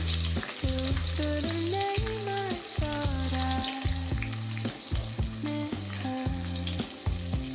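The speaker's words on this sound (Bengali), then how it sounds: "অনেকগুলো পেঁয়াজ দিয়ে দিলাম" Onions fry in hot oil for a beef curry, a continuous crackling sizzle with occasional stirring, steady throughout beneath background music.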